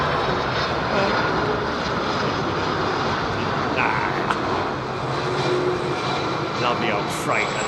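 An old freighter aircraft at London Heathrow Airport gives off a steady, broad engine roar that holds at a constant loudness for the whole stretch, with faint voices underneath.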